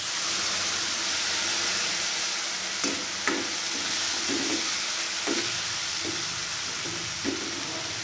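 Spinach bhaji sizzles steadily in a pan on the stove, a close, constant frying hiss. Soft scraping taps from a spoon stirring the greens recur every second or so, with no talking.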